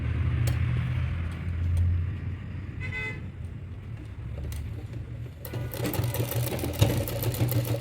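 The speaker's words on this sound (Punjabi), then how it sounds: "ਫਿਰ ਜਿੱਪ ਦੀ ਸੀਨ ਲਾਵਾਂਗੇ" A sewing machine stitches the zip seam on a ghagra skirt, its fast rhythmic clatter starting up in the second half over a low background hum, with a few faint distant car horn toots.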